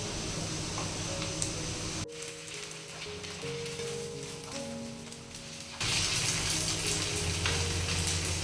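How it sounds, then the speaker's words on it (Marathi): Vadas for a fasting-day recipe frying in a little oil in a shallow, wide pan, giving a steady close sizzle and crackle that shifts in intensity partway through, with no talking. "कमी तेलामध्ये असे पसरट भांड्यामध्ये आपल्याला तळायचे"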